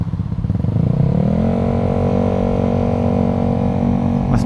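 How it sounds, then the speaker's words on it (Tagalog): A Yamaha Aerox scooter engine runs close by. Its drone climbs in pitch at the start, then settles into a steady, loud hum with a faint rattle and no voices. "Mas mahingay pa yung Aerox sa motor yata natin."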